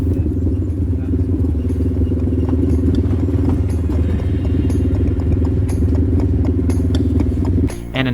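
An ATV riding back up a scenic mountain valley trail in Cape Breton, its engine droning loud and close throughout with steady clatter over rough ground, briefly dropping near the end.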